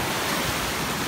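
Sea water rushes and washes at a beach in Thailand, making a dense, broad, steady hiss like surf or churning water. It is loud and close with no voices.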